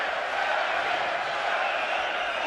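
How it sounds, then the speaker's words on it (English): Fans in a boxing arena roar for Canadian fighter David Lemieux during his bout with Billy Joe Saunders, a dense, even crowd wash that holds steady throughout. "The crowd chanting for their Canadian hero"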